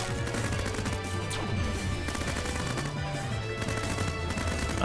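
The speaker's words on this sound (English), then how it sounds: "Regular machine gun, let's go." Machine gun fire in a Risk of Rain 2 style shooter, a continuous rapid stream of close, loud shots layered over crashing impacts and game effects.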